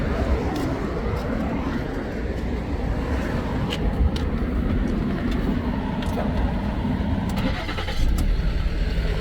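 A 2011 Ford Explorer cranks and catches, then settles into a steady running engine. The drone is loud and close, rough in the low end, with no talking.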